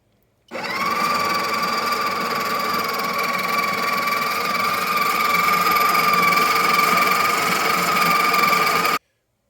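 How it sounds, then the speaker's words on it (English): A Breville Barista Express grinding coffee beans, a loud steady whirring motor hum that starts abruptly, runs for about eight seconds and cuts off sharply. "I didn't leave it on for the whole time that was grinding, about 5 seconds"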